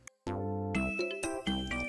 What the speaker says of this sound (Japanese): アジサイガーデンを登った先にはチャレンジの鐘があります。